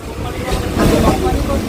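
A Kolkata local train running into Park Circus station, a loud, close rumble and hiss of the moving carriages that swells toward the middle of the short stretch.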